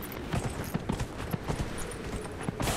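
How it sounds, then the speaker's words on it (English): A charging horse gallops in Dragon Age: Inquisition, with a steady run of hoof clip-clops at a moderate distance over faint game ambience, ending in a louder burst of noise. "here comes a charging horse and nobody cares"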